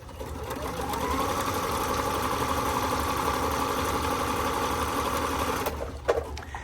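Singer XL-6000 sewing machine, repaired after a speed control fault, running steadily with a fast, even mechanical whir and clatter before stopping with a few clicks.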